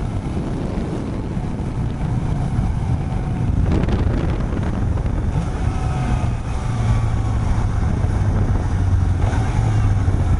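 A Suzuki GSX-S750 motorcycle engine climbs in revs during a test ride, a rising drone heard under heavy, constant wind rush.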